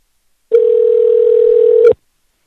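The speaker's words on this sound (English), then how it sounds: "oh yeah, I'm dialing" A telephone dial tone sounds as one steady, loud, unbroken tone lasting about a second and a half, starting and stopping abruptly, with no audible keypad beeps and no voices.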